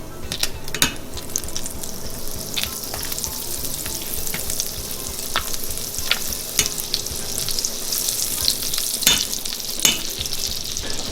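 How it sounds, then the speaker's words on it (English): Onion frying in a pan for beef stroganoff, set to cook down with mushrooms and garlic until crusty and golden; a steady, close sizzle runs throughout with occasional sharper pops and crackles, and no voices. "we're going to cook our mushrooms and garlic, in onion until it becomes nice and crusty and golden and beautiful"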